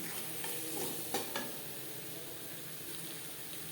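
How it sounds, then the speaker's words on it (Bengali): Potatoes stirred with spices in a pan for an omelette curry, giving a soft steady sizzle with a few brief scraping stirs, close and alone without talk. "মশলার সাথে 2-3 মিনিট আলু নাড়াচাড়া করে নেব।"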